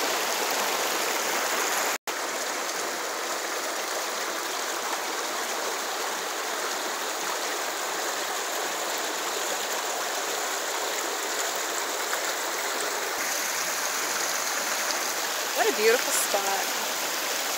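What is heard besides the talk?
waterfall and brook stream flowing, North Maine Woods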